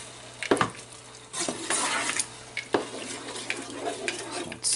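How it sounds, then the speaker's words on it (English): Tomato sauce stirred in a pot with a utensil, a few scraping clatters against the metal between bursts of soft bubbling and sizzle, close by and without speech. "Stir it a little bit here."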